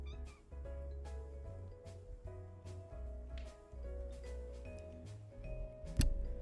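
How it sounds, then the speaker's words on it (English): A cat meows faintly somewhere in the room, thin cries barely rising above a steady low hum and soft background music, ending with a brief sharp click. "Do you hear him meowing?"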